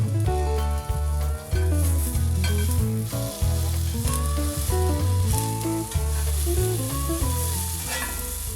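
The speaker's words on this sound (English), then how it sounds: "the sizzling should get louder as the wet berries hit the hot pan" A blueberry sourdough pancake sizzles in a hot pan, a steady frying hiss running continuously under prominent musical tones.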